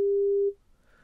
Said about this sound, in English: Here's a sine wave with a frequency of 400 Hz played back.